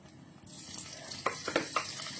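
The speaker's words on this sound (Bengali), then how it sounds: "তো তার সাথে আমি প্রথমেই দেব একটুখানি বাটার, খুব সামান্য পরিমাণ বাটার আমি দিচ্ছি।" Amul butter dropped into hot oil in a pan while cooking matar paneer, giving a steady close sizzle with a few soft crackling pops and light stirring scrapes, no talking.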